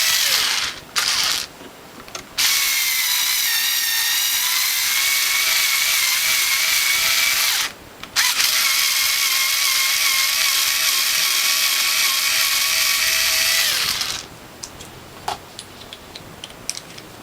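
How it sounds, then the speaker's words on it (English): Power drill cutting thread into a sheet-metal base plate on a WHF or Norwalk juicer, two sustained high whirring runs broken by short pauses, with clicks and ticks afterward. "Next we'll drill in the thread."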